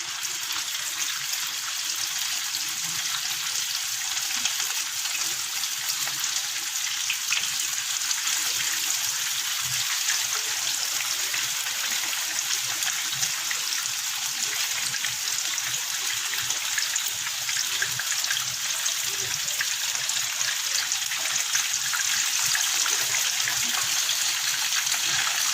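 Beef chapli kababs frying in preheated oil, a steady close hiss and sizzle of bubbling oil that holds an even, continuous level throughout.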